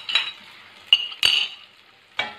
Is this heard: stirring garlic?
yes